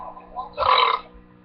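A loud, close burp lasts about half a second, rising abruptly out of quiet room noise and then stopping.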